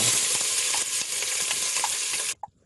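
Onions dropped into warm oil burst into a loud, dense sizzle that holds steady for a couple of seconds before cutting off abruptly, leaving near silence and one soft clink.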